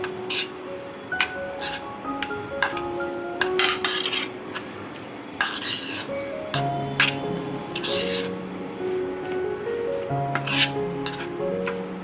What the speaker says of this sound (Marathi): आपल्याला स्ट्रॉबेरी क्रश घालून सारण सगळं आपल्याला मिक्स करायचं आहे